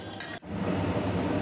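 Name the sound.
spinach paste added to fried onions and stirred in pan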